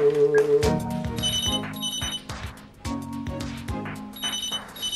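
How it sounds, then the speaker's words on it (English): Telephone ringing indoors: repeated bright electronic bell-like rings in quick bursts, loud and close, mixed with shorter tonal chirps and clatter. "Can someone answer the phone, please?"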